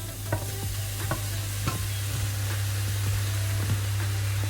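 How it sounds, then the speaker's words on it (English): Onion, garlic and mushrooms sauteing in a pan, a constant dense sizzle with a low steady hum underneath and occasional spatula scrapes and taps, no talk. "we're just sauteing it to bring up the flavor here"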